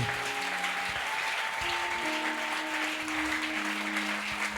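A church congregation applauding in praise: sustained, even clapping from many hands, with faint held musical tones underneath.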